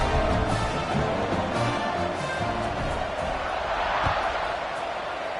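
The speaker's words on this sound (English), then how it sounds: "this crowd is buzzing after that last score" A college football stadium crowd murmurs in a broad, steady roar after a score in a Texas A&M versus Penn State game, with a thud or two in the mix and some speech running over the din.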